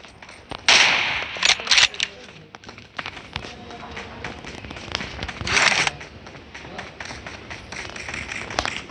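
A new gun fires in a simulation video game, with sharp bursts of shots and scattered taps and footsteps, some louder cracks standing out over a busy mix of game sounds.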